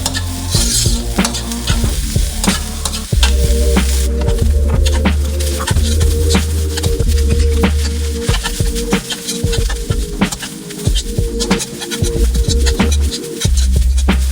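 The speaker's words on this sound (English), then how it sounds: "I'm heating the oil and cooking the onions until soft." Onions cooking in hot oil while being stirred, a steady loud sizzle broken by repeated scrapes and clinks of a utensil against the pan, with a low hum underneath and no talking.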